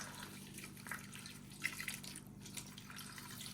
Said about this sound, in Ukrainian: Заливаємо це все водичкою.